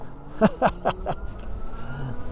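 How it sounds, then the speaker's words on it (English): A car approaches on a road with a low engine rumble that rises as it draws near, heard alone without talk. "at the moment I've got to stop because there's a car coming"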